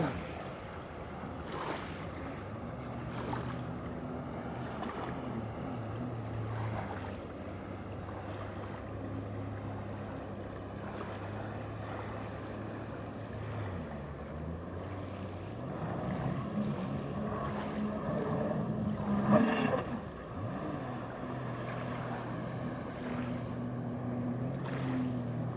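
A motorboat crosses its own wake at a distance, its low engine drone steady beneath the wash of water and wind, with a few splashy slaps as the hull hits the waves.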